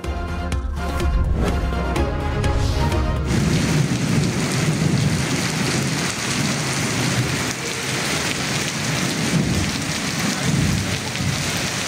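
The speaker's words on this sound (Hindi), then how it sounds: "मरी में भी गरज चमक के साथ बारिश।" Steady heavy rain with deep rolling thunder during a thunderstorm in Murree, loud and continuous throughout, with a brief stretch of music at the start before the storm takes over.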